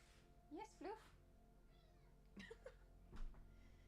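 A cat meows twice in quick succession, faint and close, and a few softer meows follow. A person talks quietly at the same time.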